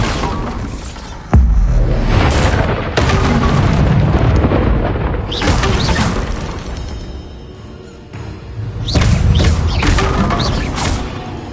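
Bombarda blasting spell cast in Hogwarts Legacy: loud booming bursts about every two seconds, each with a crashing, shattering tail, leaving a dense rumble between them.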